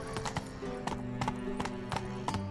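Rapid hoofbeats from Roach, the horse in The Witcher 3, thud in a quick repeating rhythm while a neigh rises partway through, close and clear.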